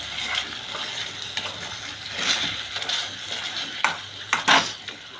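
A potato masher crushes large tomato pieces in a pan for egg curry: soft squelching and scraping with a few sharper knocks toward the end, close and fairly quiet.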